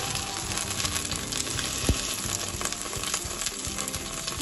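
Curry leaves sizzling and crackling in hot oil for restaurant-style Chicken 65, a continuous close frying hiss with small pops and a brief sharp spatter midway.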